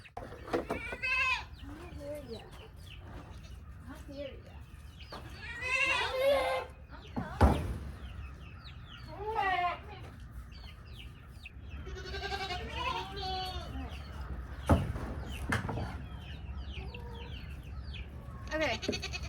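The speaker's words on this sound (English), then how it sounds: "Let's see these goats." Goats on a farm bleating in several separate bursts, some close and loud, others fainter, with quiet stretches and occasional knocks between calls and a person talking softly at times.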